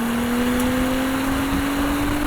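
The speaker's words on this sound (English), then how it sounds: "And now let's go ahead and throttle it and see what it does." A 2018 Audi SQ5 Quattro engine is revved under throttle, a loud, steady rising tone that climbs smoothly through the short burst at close range, with no talking.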